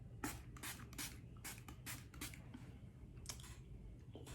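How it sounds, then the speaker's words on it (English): A bottle of e.l.f. makeup finishing spray misting close up, about a dozen quick hissing pumps in irregular bursts, some in rapid pairs, with no talking. "So I'm going in with my elf finishing spray."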